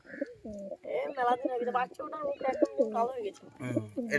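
Pigeons in a Bengali pigeon keeper's loft, including a muski pigeon sitting on eggs, coo in repeated low throaty phrases close to the mic, with someone talking over them throughout.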